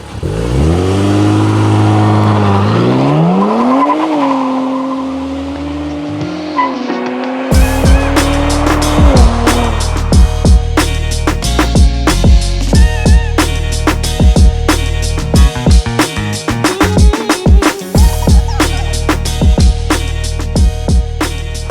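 A 2023 Nissan Z Performance pre-production prototype sports car drives hard, its engine revving up and shifting, then loud, sustained road and engine roar with sharp transient bursts, up close and without talk.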